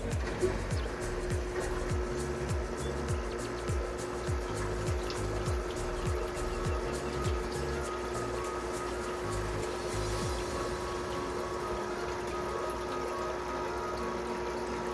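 Water from a hose pouring through a deli container into an aquarium for shell-dwelling cichlids, a steady low splashing and gurgling stream with a faint rhythmic pumping pulse, continuous and moderately quiet.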